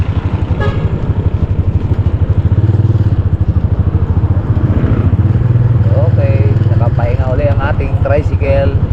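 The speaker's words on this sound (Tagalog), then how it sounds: "Tricycle." Tricycle engine idling and running on a Philippine street, a steady low putter throughout with people talking over it and a brief horn-like toot near the end.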